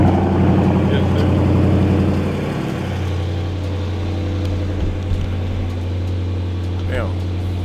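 A Dodge Charger engine idles after a remote start, a steady low hum that drops slightly after a few seconds, with faint background sounds.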